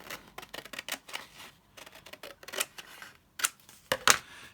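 Scissors snip through printed paper while trimming floral ephemera for a junk journal: a quiet, irregular run of short cuts, with a few sharper, louder snips near the end and no voices.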